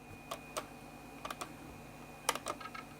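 Loose trackpad button on a retro Apple laptop clicked in a few separate sharp ticks, some in quick pairs, close up against a quiet background hum.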